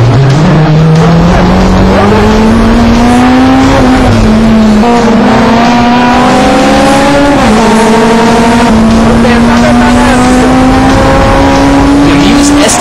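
A Honda S2000 race car at full throttle, engine note climbing and shifting loudly while the tires squeal through heavy understeer, close and continuous throughout.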